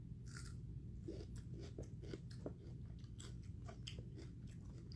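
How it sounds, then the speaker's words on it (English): Someone bites into and chews cucumber, giving a steady run of small, crisp crunches and wet snaps close to the mouth. The crunching is quiet and irregular over a low background hum, with no talking. "I like that like crunch on it that it has in the cucumbers."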